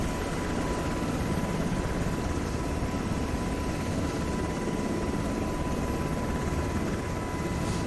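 A UH-60M Black Hawk helicopter taxiing on a runway in a flight game gives off a steady, unbroken drone of turbine and rotor noise with a faint whine on top and no voices.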